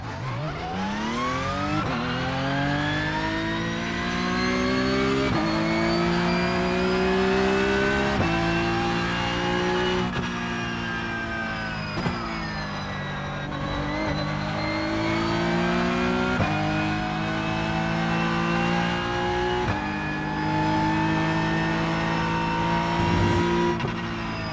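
Porsche 992.2 GT3 Cup race car in iRacing, engine revving up through gears repeatedly, each climb in pitch followed by a quick shift drop, steady and close with no talk.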